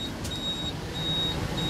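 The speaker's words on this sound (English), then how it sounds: "the beeping is because we've got lockers open" High-pitched warning beeps from open luggage lockers on a 2019 Mercedes-Benz Atego 1524L touring coach sound in steady, repeating pulses over a constant low engine hum, with no one talking.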